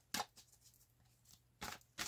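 Tarot cards shuffled by hand during a psychic reading, heard as three sharp, close riffling bursts separated by quiet gaps with faint soft handling in between.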